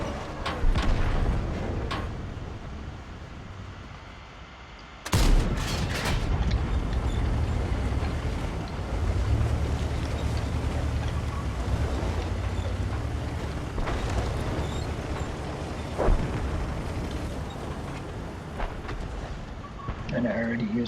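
Tank cannon fire and explosions from the World of Tanks video game, with a sharp loud blast opening a long rumbling stretch and scattered further thuds, while someone talks over much of it.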